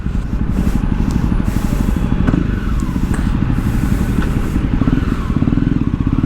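A Jawa Perak single-seat motorcycle's exhaust note while riding on a busy street, a steady, loud, low rumbling thrum that runs continuously throughout, mixed with surrounding traffic noise.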